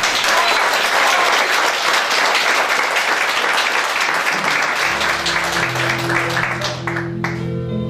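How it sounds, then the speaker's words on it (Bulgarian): Loud, sustained applause fills the hall at a wedding celebration, with many hands clapping steadily for the godparents before a low musical tone rises underneath near the end. "Аплодисменти за тях."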